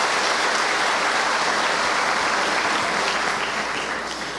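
Sustained audience applause fills the space, a dense steady clatter of many hands clapping together that fades slightly toward the end, with no talk over it.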